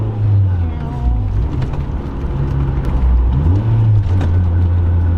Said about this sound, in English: hear that downshift, brother?